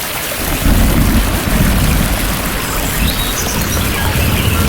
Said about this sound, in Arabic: برضو صوت مطر برضو ورعد وحاجات خطيرة كده زي ما انت شايف